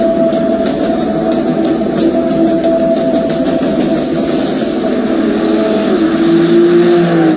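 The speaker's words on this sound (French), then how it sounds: "c'est l'AMG GTS qui entre en piste avec Anthony" A Mercedes AMG GT S accelerates onto a race track, its loud engine note climbing steadily through the revs with a rising whine, near and continuous throughout.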